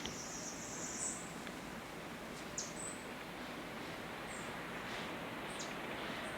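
Faint, scattered bird chirps ring out over a quiet outdoor hush in Portland, Jamaica, a few short high calls spaced across the stretch.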